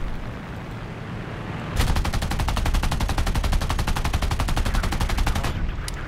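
Fast, loud continuous burst of aircraft machine-gun fire from a CR.32 biplane in the War Thunder air arcade game, rapid even rhythm running for several seconds over engine drone.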